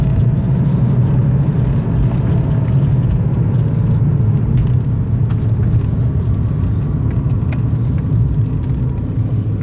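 A late-1992 Porsche 911 Carrera 2, phase 2, drives along with a steady, loud engine rumble and road roar that holds constant throughout, with no voices.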